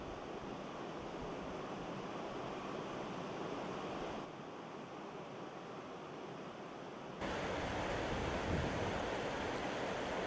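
A noisy river current rushes between narrowing rocks in a closing valley near its source, a dense, unbroken roar that grows louder partway through.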